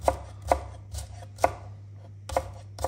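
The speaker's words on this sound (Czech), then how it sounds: "já si zatím nakrájím, tady mám jarní cibulku" A knife chops through spring onion in about seven crisp, separate strokes with uneven gaps between them, close and clear with no talking.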